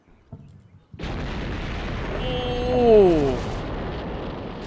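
Air support explosions strike a Shilka anti-aircraft vehicle in a war video game, a loud sustained roaring blast swelling and rumbling, with a short exclamation from a voice just before.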